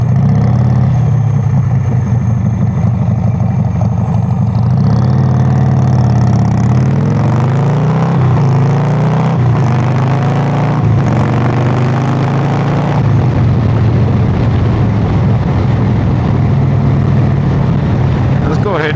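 Engine of a chopper motorcycle under way, a loud low throbbing rumble that rises and falls through the gears as it heads onto a highway, with a voice talking over it.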